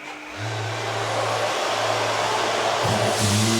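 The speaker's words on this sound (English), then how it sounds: "it's not sucking because the vacuum's full" A vacuum with a full bag pulls suction through a drywall sanding tool, producing a steady, close whirring drone that swells slightly toward the end, with no voices.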